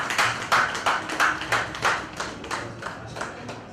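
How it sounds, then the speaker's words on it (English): Audience at a university honorary doctorate ceremony clapping, a few distinct claps repeating irregularly and fading out, fairly near and light rather than a full crowd roar. "So give him a big round of applause."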